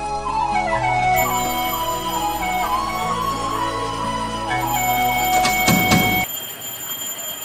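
A Garuda hand bell rings steadily during a puja at home, its bright metallic tone sustained for about six seconds with a few harder strikes near the end before it stops abruptly.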